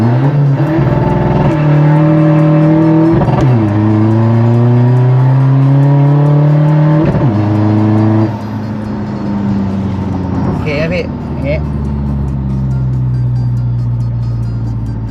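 A drag racing car with a tuned 1.9 turbo engine revs hard, climbing through repeated rising pulls with sharp cuts at each shift, loud and close, then settling to a lower steady drone.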